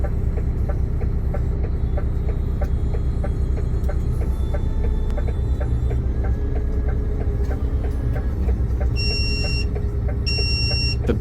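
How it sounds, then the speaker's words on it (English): A high electronic warning buzzer in the cab of a front-load garbage truck sounds twice in short bursts near the end, over a loud, steady truck engine rumble with clanking machinery. "The buzzer which is going off in the cab of the truck"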